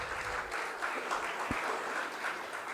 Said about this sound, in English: Please give them a round of applause for all the senior students.